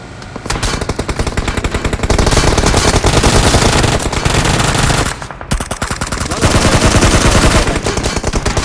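Sustained machine gun fire in a shooter game, loud and dense with rapid bursts that run almost without pause, broken only by a brief gap near the middle.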